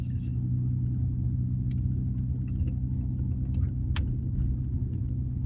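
A car engine runs with a steady, loud low rumble shortly after an oil change, sounding unusually loud; the drone holds constant throughout with faint higher ticks and no talking.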